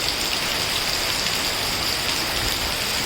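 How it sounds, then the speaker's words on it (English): Steady, dense monsoon rainfall in Mumbai pours down without a break, a loud broadband hiss of heavy rain hitting surfaces close by, with no voices. "Heavy rain here."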